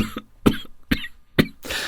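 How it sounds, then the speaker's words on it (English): A man coughing hard in a dank wine cellar, four sharp harsh coughs in quick succession followed by a wheezing rasp, close and loud. "How long have you had that cough?"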